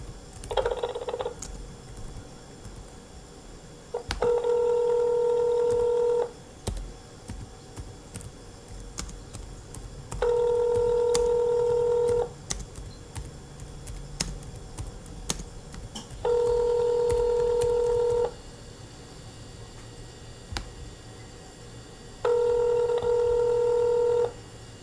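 Four bursts of telephone keypad DTMF dual tones, each about two seconds long, repeat at steady intervals while an automated phone menu plays. A faint hum sits in the background between the tones.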